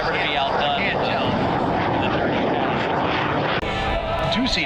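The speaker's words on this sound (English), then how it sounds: "The 2-seat version became the T-33 that you see today, so it represents the first American jet fighter" A T-33, the two-seat trainer version of the first American jet fighter, roars past at an air show, a loud sustained engine rush that shifts in pitch as it passes, with a commentator talking over it.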